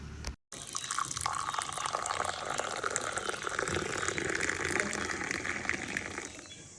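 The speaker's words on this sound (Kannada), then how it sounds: "ಇವಾಗ ನಾವು ಲೋಟಕ್ಕೆ ಹಾಕ್ಕೊಳ್ಳೋಣ." Tea poured from a pan into a drinking glass right after boiling, a steady liquid gush running close and continuous for several seconds, briefly cut near the start, with no talking.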